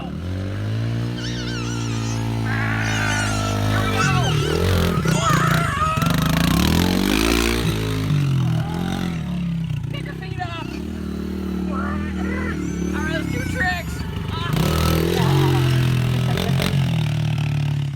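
Dirt bike engine revving and droning steadily over uneven ground with scraping and clatter, running loud throughout while someone talks over it.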